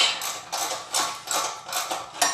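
Repeated ratcheting, mechanical clicks as the clamp on a tire changing machine is tightened against a front wheel rim, about six short bursts in steady rhythm, close and moderately loud with no talk.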